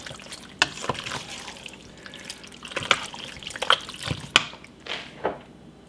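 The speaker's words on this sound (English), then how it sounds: "Now we add the mozzarella cheese. Give that a good stir." Wet squelching and stirring as mozzarella cheese is mixed into a family dinner in an Always Pan, soft intermittent scrapes and sloshes close by, no talk.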